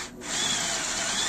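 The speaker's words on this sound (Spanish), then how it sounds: "aquí estamos taladrando para reventar esto" A power drill bores steadily into a part on a Ford F100 to break it loose, a loud, close, continuous whine with no pause.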